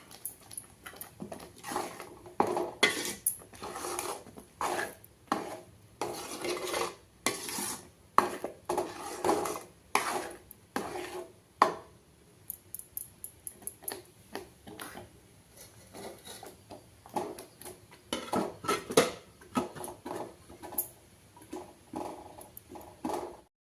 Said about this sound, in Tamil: அப்பப்போ எடுத்து கிளறி விட்டுக்குங்க